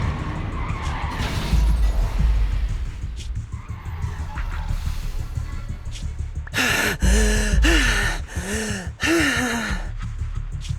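In Zenless Zone Zero, a vehicle swerves to avoid a crash with a truck, its tires skidding and squealing over rumbling engine noise. Repeated loud gasping cries come in bursts near the end.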